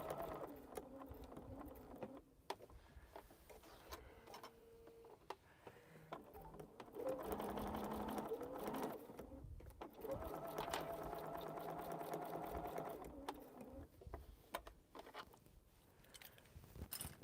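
A sewing machine stitches steadily around the edge of a quilt, its motor hum running in long bursts with short pauses between, fairly close and even in level, with faint bird calls in the background.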